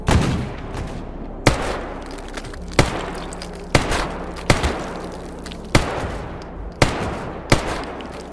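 Gunfire in the shooter game Anomaly Gamma: about nine sharp, loud single shots spaced roughly a second apart, each followed by a short decaying echo, over a low steady background rumble.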